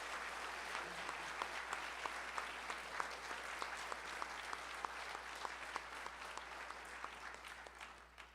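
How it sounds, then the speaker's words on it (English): An audience at a high school winter band concert applauds the young concert band students: dense, sustained clapping that holds steady and fairly loud for the whole stretch, with no voices on top. "how about another round of applause for our students in the concert band?"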